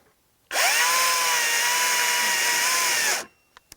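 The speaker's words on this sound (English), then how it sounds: "So we're going to start off with the battery powered saw." A battery-powered top handle chainsaw cuts through a tree branch, its motor whining up abruptly into one steady, loud, continuous cutting run of about three seconds before stopping, followed by a couple of faint clicks.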